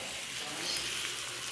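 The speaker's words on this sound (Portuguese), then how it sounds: "Aqui tá quase frito já, ó. Já tá fritando mais um pouquinho pra tirar." Bacon fries in a pan, giving a steady close hiss and crackle that fills the whole stretch at an even level.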